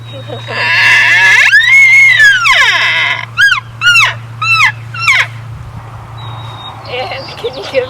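A human voice imitates a bull elk bugle: a loud, close, high whistling note that climbs and falls, followed by four short squealing chirps, then fading to faint background hiss.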